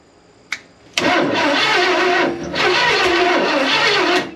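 The big six-cylinder engine of a vintage truck cranks on a weak battery, its starter whining and laboring in a strained, uneven drone after a couple of sharp clicks, loud and close with no talk.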